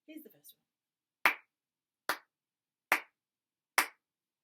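Four sharp, evenly spaced hand claps ring out in a steady beat during a ukulele lesson, each crisp and close in otherwise silent air, after a brief bit of speech.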